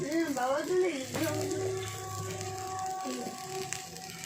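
Masoor dal frying in a pan with salt added while being stirred, a soft steady sizzle with faint stirring under a voice speaking nearby.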